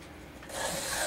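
A file rasps briefly against a worn chainsaw chain being sharpened: one short, close, gritty stroke that rises out of a quiet start.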